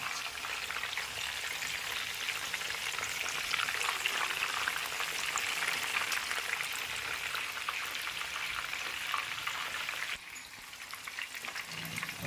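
Chicken bhaje fritters fry in hot oil with a steady, rain-like sizzle and bubbling that runs close and even, easing slightly near the end.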